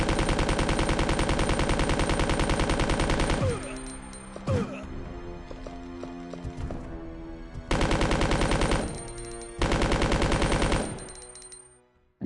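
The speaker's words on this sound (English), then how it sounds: "open fire on him again with the SMG." A submachine gun in Resident Evil 2 rattles off long, loud, rapid bursts at the Tyrant in a hallway. Two sustained volleys are split by quieter thuds and clanks, and the firing fades out at the end.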